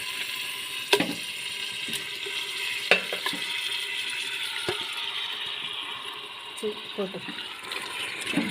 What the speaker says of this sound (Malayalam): ബീഫ് ഇട്ട് നന്നായിട്ട് ഇളക്കി കൊടുക്കണം നന്നായി ഇളക്കി യോജിപ്പിക്കാം